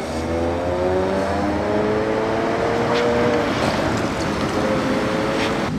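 A yellow Ferrari GTO supercar passes, its engine a loud, sustained drone with shifting tones over heavy roadside wind and crowd ambience, no single clear pass-by peak.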